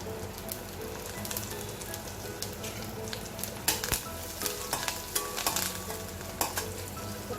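Cumin, curry leaves and chillies sizzle and crackle steadily in oil with sharp pops and spits, a close, busy frying sound with occasional stirring clinks.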